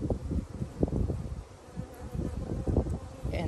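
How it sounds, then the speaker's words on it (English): Honey bees in a hive buzz and hum in a busy, uneven drone up close, with soft rustling bumps throughout. "a bunch of bumbling, buzzing, busy looking worker bees"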